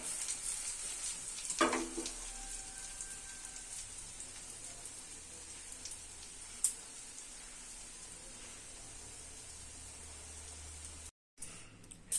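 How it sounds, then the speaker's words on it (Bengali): A potato, carrot and egg dish fries in a pan on a gas stove with a faint, steady sizzle and a couple of brief utensil clicks. "এবার অন্য পিঠটাও আমি ভালো করে ভেজে নেব"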